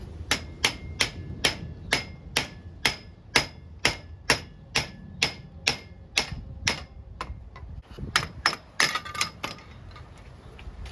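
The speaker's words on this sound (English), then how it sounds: "hammer this out with a hammer and use a piece of wood to not damage the top cap" Steady metallic hammer blows on a pin in a Coleman 13x13 canopy, through a piece of wood, about two per second, ringing sharply and close by, with a brief pause near the end before the strikes resume.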